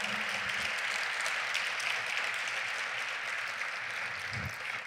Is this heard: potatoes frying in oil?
no